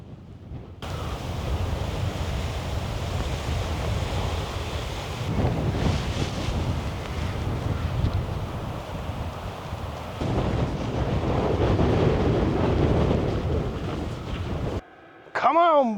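Strong night wind gusting at 40 mph around a camping truck: loud continuous roaring buffeting that rises and swells in waves, buffeting the microphone, then cuts off briefly near the end before a whistly squeak.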